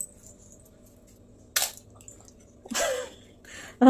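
An egg is cracked into a bowl in a home kitchen: a few sharp taps and a wet splatter spaced over a few seconds, close and distinct against an otherwise quiet room.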